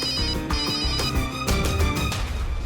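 A phone ringtone plays loudly and close, a repeating melodic electronic ring with regular pulses, no voices over it.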